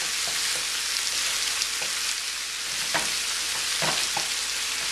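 Hairy melon pieces in a hot pan after a little liquid goes in, giving a steady, loud sizzle with a few faint stirring clicks.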